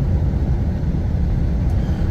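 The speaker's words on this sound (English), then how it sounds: "The noise you hear is wind noise." Steady broadband wind roar rushes through open car windows while driving along a forest road, a dense, constant low rumble with no break and no talk.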